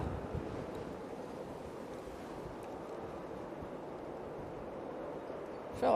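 Wind at Manchester Airport buffets the microphone in a continuous low, rushing roar, fairly faint and even throughout, with a slight rise right at the end and no voices.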